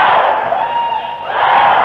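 Huge stadium crowd of about 70,000 people cheering and singing together at a 1988 concert in Madrid, loud and sustained with a brief dip before swelling again.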